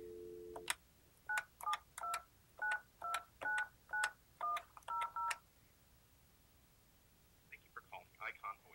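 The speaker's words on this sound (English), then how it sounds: "to dial an outside number, I need to start by dialing a 9, followed by the number I'd like to reach" DTMF keypad tones from an Alcatel-Lucent 8068s desk phone as a 9 and then an outside number are dialed: one longer opening tone, then a quick, even run of about ten clear beeps, followed by faint ringing or other call sounds.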